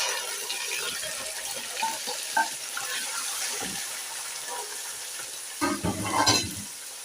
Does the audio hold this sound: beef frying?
yes